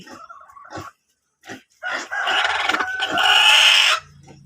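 Rhode Island Red and Basilan crossbreed chickens clucking up close; a few short, separate clucks, then a louder, longer squawking call that stops suddenly.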